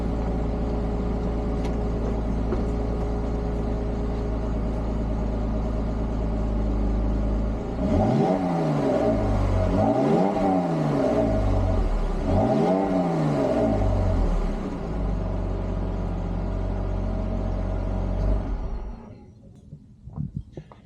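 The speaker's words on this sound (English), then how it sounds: "let's get a couple revs" A Jeep engine idles loudly nearby, then gets three quick revs in a row, each rising and falling, before dropping back to idle and cutting off near the end.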